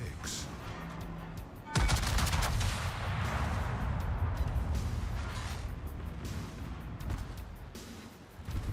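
Video game gunfire on a desert road: a sudden loud shot followed by a dense rattling stretch of rapid firing, with a few more distinct shots later under a continuous rumbling background.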